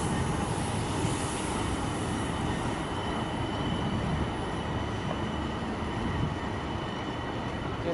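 A Midland Metro tram runs along the realigned stretch between Bull Street and Grand Central, giving a steady rumbling roll with broadband noise, fairly faint and even throughout, with no talking.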